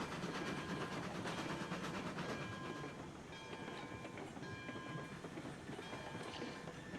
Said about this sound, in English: Get the train slowing down.